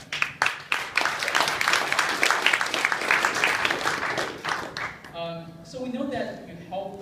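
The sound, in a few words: audience applause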